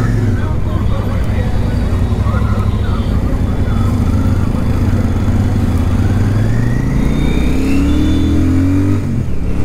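A Royal Enfield Super Meteor 650 motorcycle pulls away in first gear, its engine note rising steadily and loudly close by, with road and wind noise throughout.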